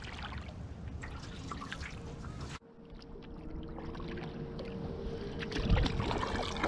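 A canoe paddle working on the left side of the boat, with soft watery swishes and trickles close by, steady throughout and briefly disturbed partway, ending in a fuller splash near the finish.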